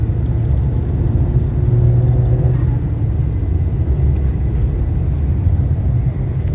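Steady low engine rumble from an Audi A4 B8 2.0 TFSI Quattro accelerating in fourth gear, a car with an oil pressure fault, heard from inside the cabin with road noise and no talking.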